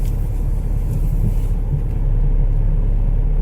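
A moving car gives off a steady, low engine and road rumble throughout, close and fairly loud, with no voices over it.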